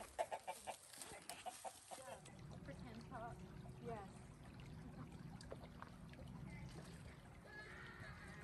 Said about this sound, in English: our chickens are usually free range